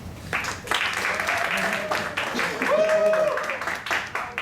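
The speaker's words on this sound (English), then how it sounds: "Hold our applause to the end" A ceremony audience gives steady scattered applause for an honor society inductee at an awards event, moderate and continuous, with a voice speaking over part of it.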